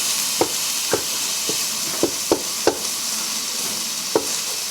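Ground meat frying in a pan with a steady hiss, punctuated by about eight sharp scrapes and taps from a utensil stirring and breaking up chunks, with no talking.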